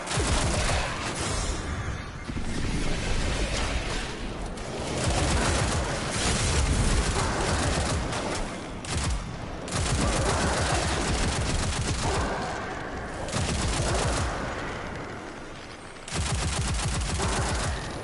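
A weapon in the Destiny 2 video game fires in sustained, rapid automatic bursts, loud and close, with brief pauses between long strings of shots.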